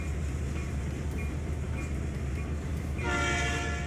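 A freight train rumbles along in the Trainz 2019 railroad simulator, steady low clatter and rolling noise, then a loud horn blast sounds near the end over the continuing rumble.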